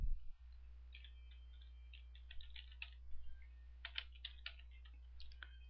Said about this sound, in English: So we come up to our browser and we type in test drive.secure